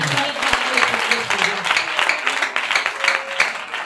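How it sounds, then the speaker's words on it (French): A church congregation applauds loudly, a dense and sustained wash of clapping from a large crowd, with voices calling out within it. "Acclame très puissamment"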